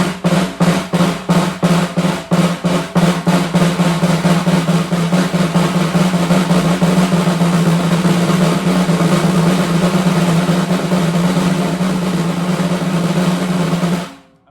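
Snare drum played as sixteenth notes that shift into continuous buzzed strokes, starting as distinct rapid hits and blending into a steady, sustained close-up roll that cuts off cleanly.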